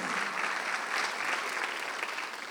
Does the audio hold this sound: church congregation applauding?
yes